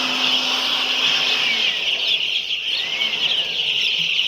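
Faint, thin bird chirps rise now and then above a steady, loud whirring hum that fills the background.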